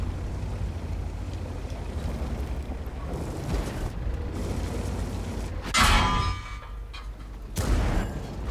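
A deep, rumbling tank cannon blast in the video game World of Tanks bursts out over continuous engine drone, followed by a second, smaller boom; no talking.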